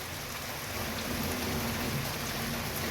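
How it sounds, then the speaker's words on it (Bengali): Heavy downpour of rain falling steadily as a dense, continuous hiss, loud and even throughout with no voices. "আর মুষলধারে বৃষ্টি হচ্ছে"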